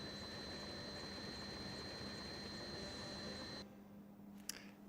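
A steady whining hum from a PlayStation 2 game tank modeled on an Abrams with a jet turbine engine, a constant drone with a high tonal whine that cuts off abruptly near the end, leaving a faint quieter hiss.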